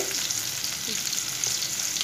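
Hilsa fish fries in mustard oil, a steady, close crackling sizzle that holds at an even level with small spits and pops throughout.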